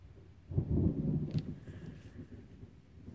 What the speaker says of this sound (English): I love the thunder.